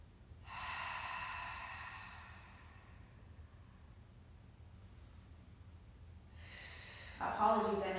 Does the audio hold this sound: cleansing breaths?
yes